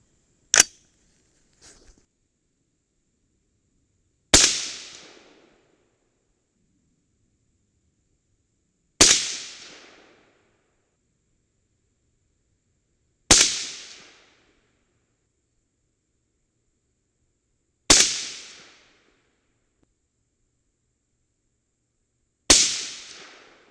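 Six sharp rifle shots with a 22.6-grain AR-Comp powder load and CCI 41 primers crack out one at a time, a few seconds apart. Each one rings out briefly and then goes quiet.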